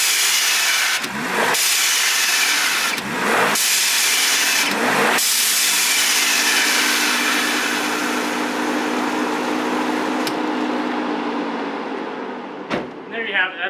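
Ford Bronco with a 2.3-liter inline-four and an aftermarket blow-off valve adapter: a close, loud engine idles and revs with a broad airy whoosh, repeated short bursts of throttle early, then a long steady run and a few clicks at the end.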